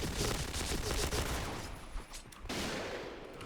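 Rapid automatic gunfire from the shooter game Point Blank bursts loud and close, with dense overlapping shots filling nearly the whole moment and a short break near the end.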